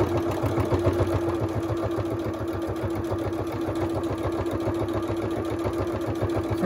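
A sewing machine stitching around the edge of a fabric sensory baby toy runs with a steady, fast, rhythmic motor whir and needle chatter, continuous and close without pauses.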